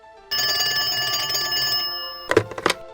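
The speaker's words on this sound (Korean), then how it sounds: "당시 중앙정보부장 김재규에게 한 통의 전화가 걸려옵니다" An old telephone bell rings loudly for an incoming call in 1979 Korea, one sustained ring followed by a couple of short clattering rings, with no voices.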